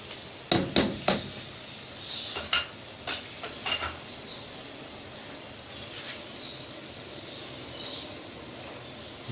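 Curd (yogurt) being stirred into frying masala for Lahori chole, with a few sharp spoon clicks against the pan early on and then a steady, quiet sizzle underneath.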